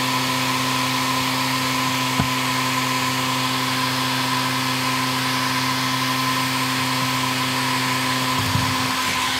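A heat gun blows hot air onto Alcantara covering an armrest of an Audi RS4 sedan, making a loud, steady, unbroken whir close by, with a single faint click partway through and no talking.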